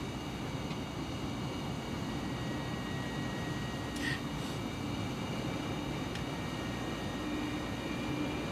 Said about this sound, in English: As soon as we're on the deck, full reverse thrust.